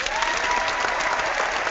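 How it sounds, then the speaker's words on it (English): Steady applause fills the space, a dense, even patter of clapping from a small crowd lasting throughout with no speech. "Let me give myself a round of applause."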